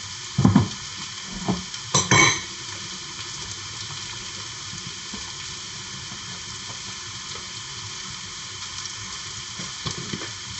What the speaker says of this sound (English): While waiting for the onions to saute